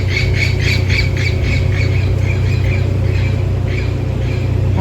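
Many birds squawk and screech in quick, repeated calls, loud and close, over a constant low rumble of background noise.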